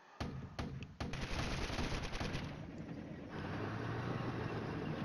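Simulated 106mm mortars fire in the wargame Flashpoint Campaigns: Red Storm: a few sharp, loud reports open the clip, then a dense rumbling barrage of blasts and crackle follows, easing into a steady low roar.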